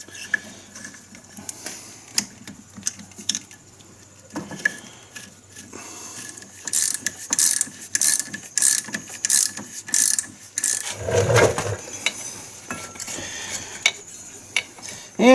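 A ratchet tightening a bolt on the rear axle of a Polaris Sportsman 500 ATV: bursts of rapid, close clicking pawl strokes in repeated runs, with a brief heavier clunk of metal partway through.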